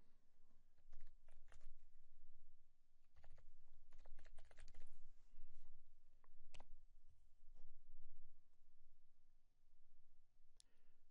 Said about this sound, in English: So type something